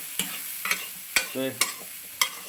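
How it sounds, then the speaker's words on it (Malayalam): A spoon stirs masala for clam roast in a pan, with sharp, repeated scraping strokes over a soft, steady sizzle. "ഇനി ഒന്ന് ഇളക്കി കൊടുക്കും ഇനി ഇളക്കണം ഇനി ഇളക്കി കൊടുക്കുന്നു"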